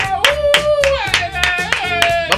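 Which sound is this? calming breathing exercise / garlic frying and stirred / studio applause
studio applause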